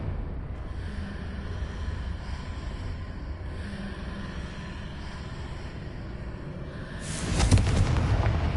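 Confringo fire spell from the Hogwarts video game erupting into a sudden booming blast near the end, after several seconds of low rumbling ambience.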